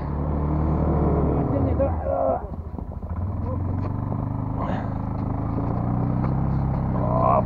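A car engine is being started, with a low, steady mechanical rumble and uneven surges as it tries to catch, while people talk nearby.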